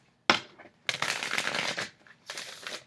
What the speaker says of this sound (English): But then I discovered if I shuffled them sideways,